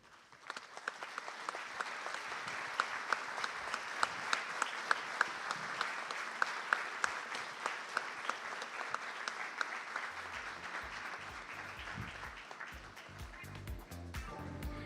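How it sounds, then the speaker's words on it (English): A large conference audience gives loud, sustained applause, a dense wash of many hands clapping with a few sharper nearby claps standing out, holding steady before tapering slightly as music starts underneath near the end. "Now your applause has to be really loud for them so that their smiles are wider."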